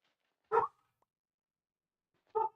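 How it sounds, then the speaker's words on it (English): A dog barks twice, a single sharp bark near the start and another after a pause of nearly two seconds, close by and loud in an otherwise quiet room. "I pissed off my dog."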